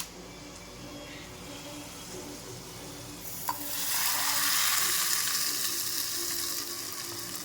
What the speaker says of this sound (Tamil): இப்போ சட்னி தாளித்து நம்ம இந்த சட்னியில் போட்டுட்டோம்